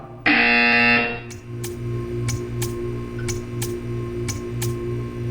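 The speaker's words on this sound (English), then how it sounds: "When you hear the buzzer, stare at the art." A loud, harsh buzzer blares for about a second in the video game Portal 2, followed by a steady hum with a regular series of sharp ticks.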